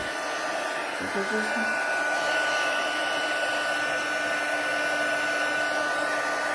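A heat gun warms up before embossing a gold holly-leaf design, giving a steady, loud, unbroken blowing roar with a faint constant whine, alone with no voices.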